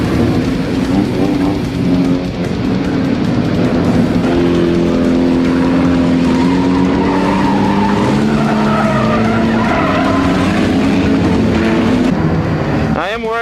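Several race cars roar around a sold-out night track at a skid plate demolition-style race, engines droning loud and continuous with tire skids, while a commentator talks over the noise.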